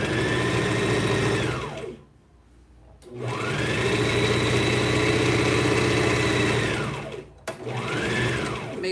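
A sewing machine stitches a hooded khimar, finishing with a back stitch: long, steady runs of fast mechanical whirring, broken by two short pauses, close and loud with no talking.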